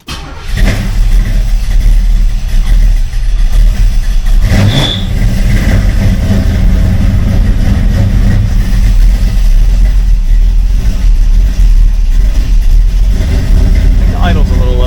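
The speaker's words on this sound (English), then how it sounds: "we're actually going to try to start the car for the first time" A 1980 Camaro with a Blueprint 383 stroker V8 cranks briefly, catches and settles into a loud, steady idle close by.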